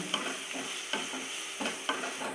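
A coarsely ground ivy gourd mixture is stirred in a hot pan: about four rhythmic scraping strokes over a constant close sizzle, with no voices.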